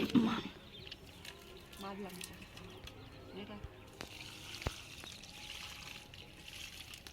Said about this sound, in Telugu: సో ఈ విధంగా అయితే మనము చెట్టుకు వాటర్ పోసుకోవాలన్నమాట